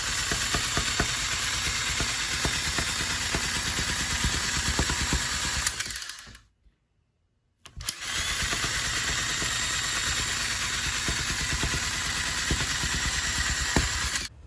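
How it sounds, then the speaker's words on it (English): A rug tufting gun drives yarn into stretched fabric with a steady, dense mechanical buzz. It runs continuously, stops for about two seconds, then starts again at the same loud, close level. "Now I'll show a quick clip of me using the rug gun from this side."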